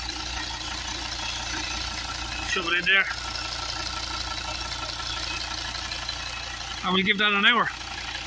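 A car engine idles steadily through an HHO hydrogen carbon cleaning treatment, a constant mechanical hum running underneath two short bursts of nearby talk.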